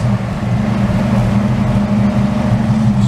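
A 1953 Studebaker M108 military 2½-ton crane truck drives with a loud, steady low engine drone and heavy rumble throughout, no voices over it.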